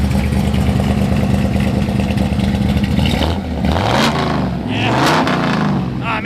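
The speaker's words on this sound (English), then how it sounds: "Great running 409. Like I said, dual exhaust all the way out the back with some Flowmasters." A 1962 Chevrolet Impala SS 409 V8 with Flowmaster dual exhaust idles with a loud, steady rumble, then revs up and down in several rising and falling blips, close and dominant throughout.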